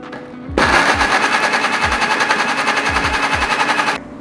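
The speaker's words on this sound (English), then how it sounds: "And now I'm going to blend." A countertop blender grinds coriander seeds, ginger pieces and water, starting abruptly and roaring loud and steady with a fast pulsing whir for a few seconds before cutting off.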